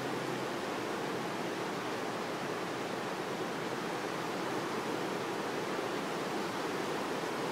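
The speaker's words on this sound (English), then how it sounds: "creek is out of its banks on the other side." Floodwater of Brushy Creek in Central Texas, swollen out of its banks after Tropical Storm Hermine, makes a steady, loud, unbroken rushing roar throughout, with no voices.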